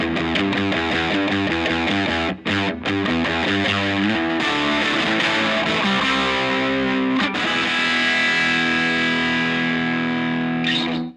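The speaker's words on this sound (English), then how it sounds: "stacking these pedals can get you some really great kind of overdriven, distorted tones" An electric guitar played through a stacked Tube Screamer and DS1 distortion pedal chain rings out in thick, sustained overdriven chords, loud and continuous, with a couple of brief gaps early on.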